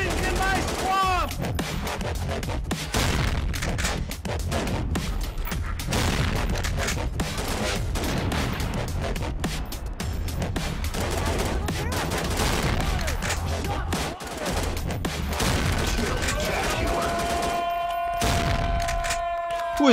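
Rapid video game gunfire, dense bursts of shots and booms firing almost nonstop, loud and close, with voices and game sounds mixed in.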